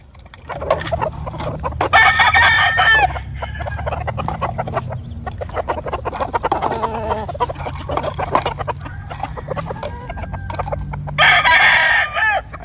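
A healthy rooster crows loudly twice, once near the start and again near the end, with clucking and other fowl sounds between, close and clear and with no talk.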